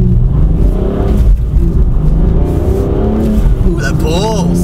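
A 2020 BMW M4 with a manual gearbox and 444-horsepower inline-six accelerates hard from 0 to 60, giving a loud, close rumble that climbs in pitch. A voice briefly cuts in near the end.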